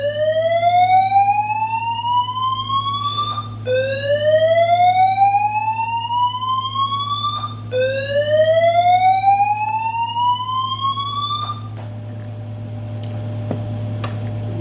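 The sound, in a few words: fire alarm going off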